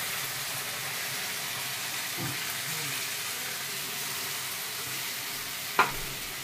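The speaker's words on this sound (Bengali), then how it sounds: "হ্যাঁ, পেঁয়াজ ভাজা হয়ে গেছে, এবার আমি এই মশলাটা দিয়ে দিচ্ছি।" Spice masala sizzling among fried onions in a pan, a steady close hiss with a scrape of stirring and a sharp clink near the end, no talk.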